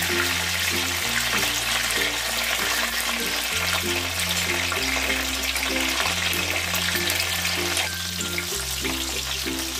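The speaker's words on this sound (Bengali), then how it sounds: "আর ফুলকপিগুলো বেশি আমি ভাজবো না, হালকা করেই আমি ভেজে তুলে নেব" Cauliflower pieces fry lightly in hot oil with a continuous hissing sizzle, heard under a steady bed of background music.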